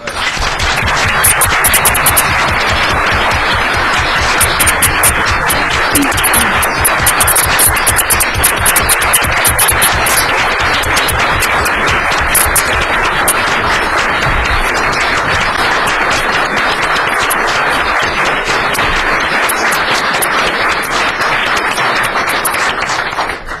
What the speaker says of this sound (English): I want us all to give him a round of applause.